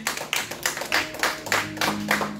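Church congregation claps for a woman preacher in a steady rhythmic beat, close and moderate in level, with a faint tone humming underneath.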